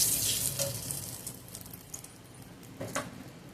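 Whole cumin seeds tempering in hot oil, a soft, close, steady sizzle with brief crackling bursts near the start and end.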